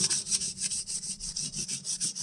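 Guitar parts are rubbed with 800 grit sandpaper in quick, even back-and-forth strokes, a close, rhythmic scratchy hiss repeating about five times a second.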